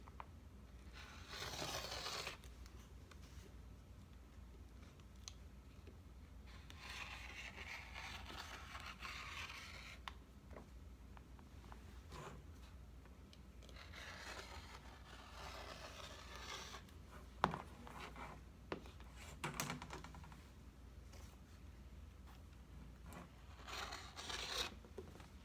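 Scissors cutting t-shirt fabric on a cutting table while making a pillow, several bursts of snipping and scraping through cloth separated by quieter handling, close but soft.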